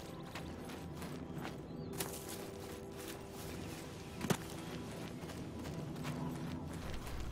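Hooves of a horse in the Oblivion video game clop faintly at a walking pace, soft and distant under a low ambient game background, with one brief sharp click partway through.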